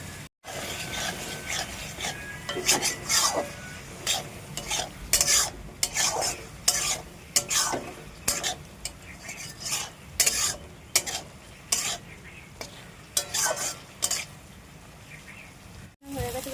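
Chicken and chopped potatoes being stir-fried in a pan, with repeated rhythmic scraping strokes of a spatula over a constant low sizzle, close and fairly loud, with no voices.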